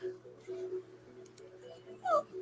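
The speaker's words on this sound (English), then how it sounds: "Yes, I hear you, dog." A dog whimpers faintly indoors, with soft, brief whines and a sharper high yip near the end, set against a low steady background hum.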